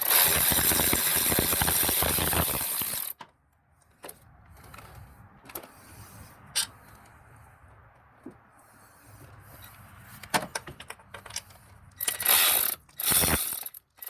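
Ratchet clicking while loosening a bolt on the engine coolant pump of a third-generation Prius, heard in short close bursts with pauses between turns and a louder mechanical rattle at the start and end.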